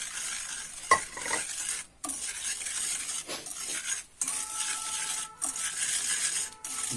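Egg yolk and sugar are whisked by hand in a bowl: a busy, close metallic scraping and clinking with short pauses between strokes.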